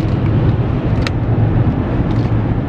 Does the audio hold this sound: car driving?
yes